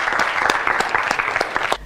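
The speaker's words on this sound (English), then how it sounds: "Round of applause, everybody." Studio audience of a Malawian talk show on the media breaks into applause, brisk dense clapping, close and loud throughout a short burst.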